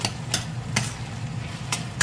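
Bottle gourd is stirred in a pan with five-spice and dried chillies: a few scraping strokes of a spatula, spaced unevenly, sound over a steady soft sizzle.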